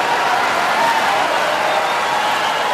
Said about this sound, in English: the crowd vociferously gets behind a man who is obviously their favorite